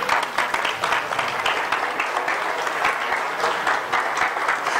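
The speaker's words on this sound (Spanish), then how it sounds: "¿Por qué no le damos un aplauso al Señor?" A church congregation breaks into sustained applause, dense and even clapping from a large group filling the room throughout without pause.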